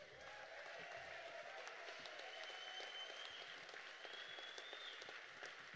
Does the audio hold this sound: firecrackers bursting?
no